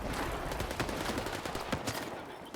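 Rapid gunfire from a fight against a fire poltergeist in the video game Stalker 2, with dense, overlapping bursts of shots over a constant noisy background throughout.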